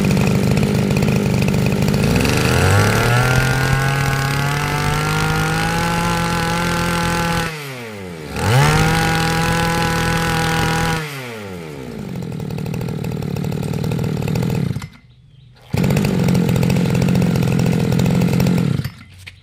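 A small two-stroke Komatsu brush cutter engine starts close by and revs to a high whine. It drops and cuts out several times, then roars back.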